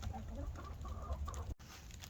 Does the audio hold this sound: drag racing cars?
no